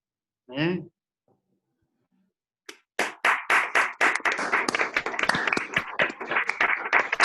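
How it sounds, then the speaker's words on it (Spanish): A brief voice is followed by a pause, then scattered handclaps start from a small online-presentation audience and build into quick, uneven clapping close to the microphone, continuing to the end. "le damos lugar a la propuesta de aplausos"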